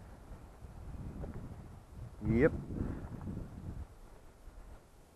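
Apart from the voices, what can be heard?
wind blowing in a yard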